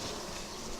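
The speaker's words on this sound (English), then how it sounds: "a couple bees here and there, but nothing big" Honey bees buzz during a beehive inspection, a dense, steady drone close by in a brief burst with no talking.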